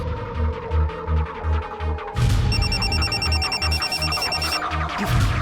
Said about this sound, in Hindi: फोन किसका आया था?